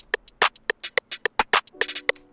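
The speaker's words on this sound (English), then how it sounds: "Then I'm gonna make this really typical snare pattern that sounds like this." Typical programmed snare pattern in a hip-hop beat, with sharp snare and clap hits over quick hi-hats and a low synth line near the end; loud, rhythmic and free of talk.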